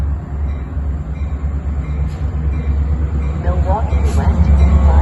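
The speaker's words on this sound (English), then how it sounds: "West Main Line train number 2233 to National Street is now arriving." A Metra West Main Line commuter train arriving at Roselle station, a loud low rumble of rolling cars with faint wheel squeal building toward the end, under a station announcement voice.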